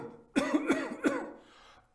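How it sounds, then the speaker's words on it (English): A man coughs in a dramatized reading, a harsh burst of three or four close, hoarse coughs followed by a faint wheezing breath. "How long have you had that cough?"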